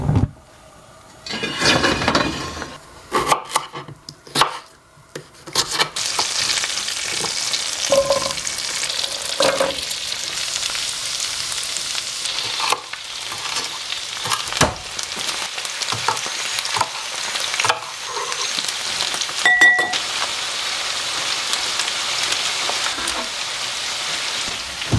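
Salmon patties fry for dinner in a cabin kitchen, a loud continuous crackling sizzle like rain on a surface, with scrapes and knocks from the pan early on.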